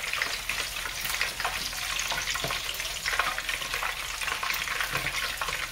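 Biscuits stuffed with boudin sizzle and crackle in hot oil, a steady bright frying hiss with small pops and occasional turning noises.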